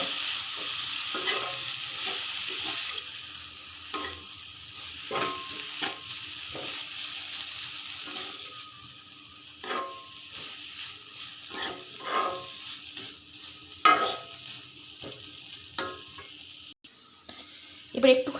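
Food frying in a pan is stirred now and then, so soft hissing sits under scattered spatula scrapes and taps; the sound is close but fairly quiet, and a faint voice comes through briefly.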